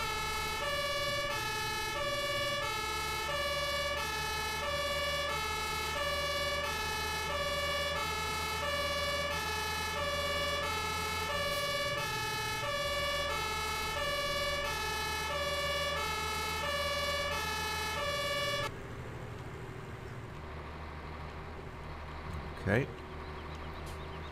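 A fire truck siren from a Mercedes-Benz Atego turntable ladder with Metz body in the Landwirtschafts-Simulator 17 game wails loud and steady, a rising and falling electronic tone over engine rumble that cuts off near the end, leaving a low engine hum.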